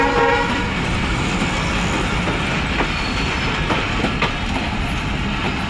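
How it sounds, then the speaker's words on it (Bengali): Train pulling into Bheramara railway station in Kushtia district, a loud continuous rumble of wheels and cars with rhythmic clicking over the rail joints, a horn tone near the start and occasional squeals. "দেখুন কীভাবে ট্রেনটা আসছে।"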